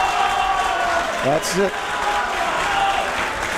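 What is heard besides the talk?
crowd applauding at arm wrestling finals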